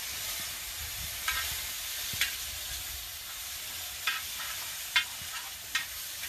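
Fish chorizo fries in a pan with a constant close sizzle, and a few sharp spatters and stirring clicks pop out at irregular moments.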